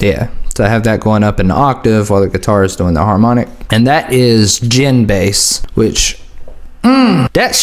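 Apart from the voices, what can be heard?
No everyday noises stand out.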